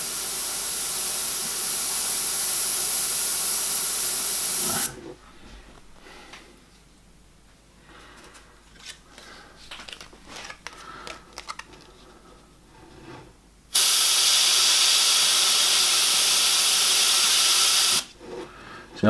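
An airbrush sprays paint onto a Reaper miniature in a steady, close hiss that runs for several seconds, stops for a stretch of quieter handling noises, then resumes for another long continuous burst.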